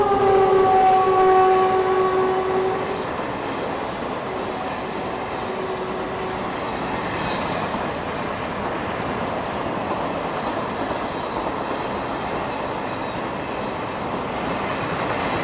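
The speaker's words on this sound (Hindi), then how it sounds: "मुंबई से जयपुर की ओर जाने वाली गणगौर सुपरफास्ट एक्सप्रेस आ चुकी है" Gangaur Superfast Express, running from Mumbai to Jaipur, arriving at an Indian station with a loud horn blast at first, then a steady rolling rumble and rattle of coaches passing close by.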